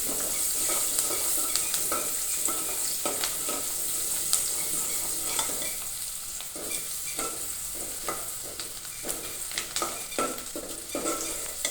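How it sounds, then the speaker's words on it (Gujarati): Onions sautéing in a pan, a steady close sizzle with repeated scraping and stirring strokes, no voices over it. "તો ડુંગળીને આપણે સારી રીતે સાંતળી લઈશું."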